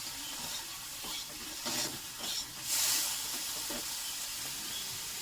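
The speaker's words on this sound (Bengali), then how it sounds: "এই যে রসুন বাটা দেওয়া আছে, হলুদ আর নুন দিয়ে লাল লাল করে ভাজবো" Prawn heads frying in a pan with garlic paste, turmeric and salt, giving a steady close sizzle with brief louder hissing bursts as the pan is stirred, no voices.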